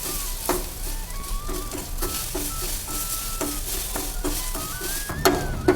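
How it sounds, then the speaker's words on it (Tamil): Grated coconut dry-roasting in a pan for a Kerala kadala curry, a continuous light sizzle with repeated scraping and stirring strokes and a couple of sharper clinks near the end. "இது கூட துருவின தேங்காய் 1/4 கப்பு. இதை நல்லா செவுக்க வறுக்கணும்."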